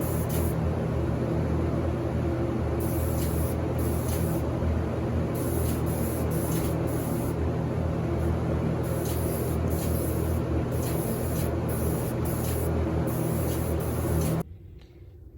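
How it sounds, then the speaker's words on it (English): A spray gun lays a coat of lacquer onto a handmade ukulele, a steady close hiss running without a break for about fourteen seconds before stopping abruptly, with no voices. "gonna come back and spray another coat of lacquer on here"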